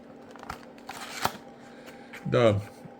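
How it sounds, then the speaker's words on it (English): An ESU DCC decoder box opened and unpacked, with short bursts of cardboard and plastic rustling and shuffling near the microphone, and a voice briefly speaking. "we're gonna unbox our ESU decoder"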